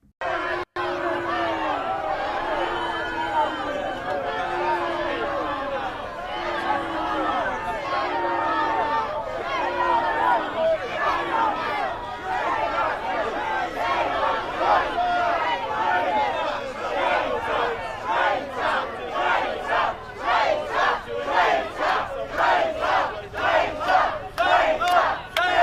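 A crowd in Golders Green heckles Keir Starmer, with many voices shouting and jeering in rhythmic bursts. The chants grow into loud, pulsing, chant-like cries toward the end.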